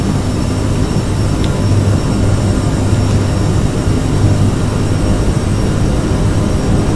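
The jet engines of a CRJ700 airliner run at takeoff throttle, a loud, steady, dense roar with a low hum that holds unchanged throughout, heard alone without voices.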